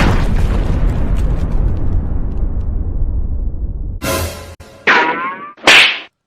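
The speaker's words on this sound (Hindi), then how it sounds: "अब फूटा पटाखा, बदतमीज कहीं का।" A Diwali firecracker in a cartoon goes off after a long rumbling fizz, ending in several sharp, loud cracking bursts close by, with no talk over them.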